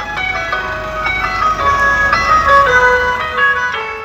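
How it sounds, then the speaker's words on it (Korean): A Norwegian neighborhood ice cream truck plays its tinkling bell-like melody as it arrives on a summer day, a bright repeating tune heard fairly loud and steady over faint background hum. "바로 이 아이스크림 차가 오는 소리."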